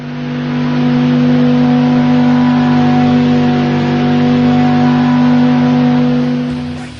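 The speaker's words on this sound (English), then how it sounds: "Here's an audio signal sample taken from a v10 sound recording." Lamborghini V10 engine holds a loud, steady, harmonically rich roar for several seconds, close and constant with a slight swell in the middle, no speech.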